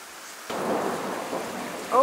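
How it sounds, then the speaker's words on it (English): A thunderstorm with steady rain: a broad rushing downpour starts abruptly and holds at a fairly loud level, with a low rumble of thunder underneath and a brief brighter swell near the end. "Here's a storm."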